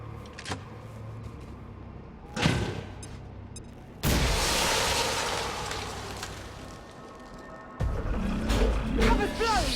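XCOM 2 frag grenade blowing up with a sudden, loud, broad explosive blast partway through, among other sharp impacts and rumbling battle noise, with a voice shouting over it.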